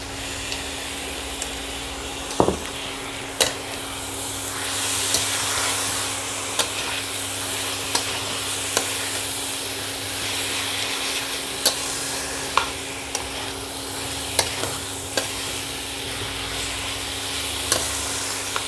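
Mutton mince fried with spices sizzles steadily for the whole stretch, a dense close hiss broken by scattered sharp ticks and spatters from the pan, with no voice over it.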